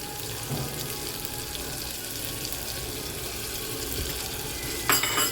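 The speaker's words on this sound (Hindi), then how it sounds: "ये प्याले में थोड़ा सा पानी डाल के वो भी डालेंगे" Water poured from a bowl into a cooking pan while making ridge gourd and chana dal sabzi, a steady running splash with faint sizzling throughout and a brief brighter burst near the end, with no talk.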